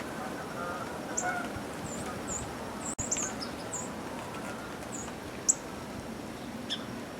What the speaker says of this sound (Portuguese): Olha os gansos selvagens voando por cima.